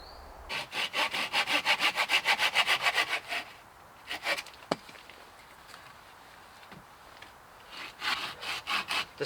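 A folding camping hand saw cuts through wood in a fast run of rhythmic rasping strokes, then a pause with a few scattered knocks and scrapes, and a second short burst of sawing near the end; close and loud, no talking.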